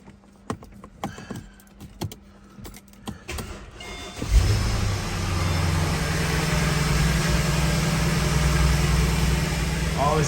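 A 2009 Mercedes SL550 R230 cranks and fires up after a power steering pump replacement, then settles into a loud steady idle close by, with clicks and handling noises before the start.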